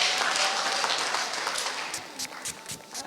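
An audience at a Maendeleo ya Wanawake women's meeting in Machakos applauds the PS with a dense wash of clapping that thins and breaks into scattered claps toward the end.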